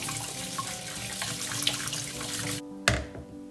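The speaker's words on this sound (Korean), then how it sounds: "먼저 고구마를 깨끗이 씻은 다음 삶아주세요." Sweet potatoes washed under a running kitchen tap, a steady close rush of water that cuts off near the end, followed by a single soft thunk.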